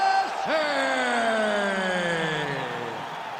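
A UFC arena crowd roars through a middleweight tournament bout, a loud, sustained swell of cheering with whoops that rises sharply and then slowly tapers off.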